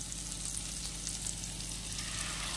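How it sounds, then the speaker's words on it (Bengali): Paste of ginger, green chilli, onion, garlic and cashew frying in oil, a steady close sizzle with a soft low rumble and no voices, during cooking of Bengali doi rui fish curry. "দিয়ে আবারও মশলাটা এভাবে নেড়ে চেড়ে একটু ভালো করে ভেজে নিতে হবে"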